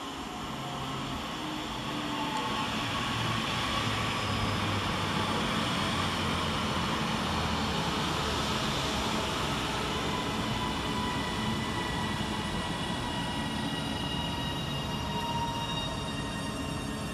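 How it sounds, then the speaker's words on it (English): Northern class 331 electric unit 331007 pulling into Wilmslow station, a broad, steady rushing roar of wheels and traction that swells early and holds close and loud for the rest, with no voices. "Next arriving into the station is 331007, working the 1503 Northern service from Manchester Piccadilly to Alderley Edge."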